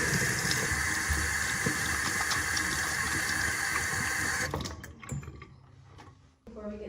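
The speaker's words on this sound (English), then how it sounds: "I'm just gonna wash my hands one more time" Tap water running steadily into a sink during handwashing at a lymphatic massage spa, loud and close for several seconds before shutting off, followed by faint handling noises.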